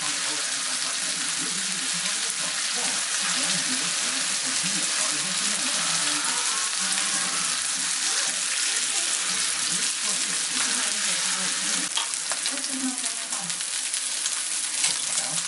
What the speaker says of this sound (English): place my pork chop right in the center of the pan. You want to hear that sizzle.